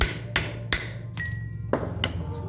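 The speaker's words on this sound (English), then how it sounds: "I'm gonna see if I can pop the rest of it off with a hammer and chisel." Sharp metallic strikes of a hammer on a chisel against aluminum on a buggy rear axle, about five hits at uneven intervals, one leaving a brief ringing tone.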